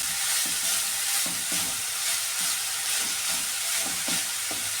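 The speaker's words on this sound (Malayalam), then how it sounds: "ഇനി ഇതിലേക്ക് ഈ അരിഞ്ഞു വെച്ചിരിക്കുന്ന വാഴക്കൂമ്പ് അതിട്ട് കൊടുക്കാമേ" Chopped banana flower hitting a hot pan for thoran, a soft, even sizzle with a rhythmic series of stirring scrapes every half second or so, fairly quiet and free of speech.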